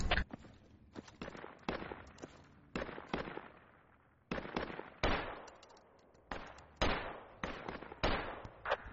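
Repeated rifle gunshots aimed at an enemy in the military video game Project Reality, about a dozen sharp cracks at irregular intervals, some in quick pairs, each with a short echoing tail, loud against a quiet background.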